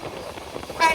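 On board the Ruposhi Bangla Express, the train rumbles along the Khulna–Jessore rail section toward Rupdia station, a brief rolling clatter with a rise near the end, mixed with a speaking voice.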